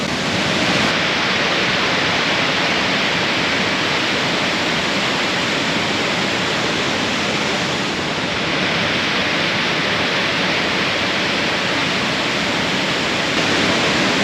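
The waterfall on Kulen Mountain near Siem Reap, Cambodia, pours in a dense, unbroken roar, loud and close for the whole stretch with no voices.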